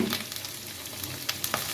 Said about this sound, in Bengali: ঢেকে দিলাম একটু, তাহলে আলুটা তাড়াতাড়ি ভাজা হয়ে যাবে।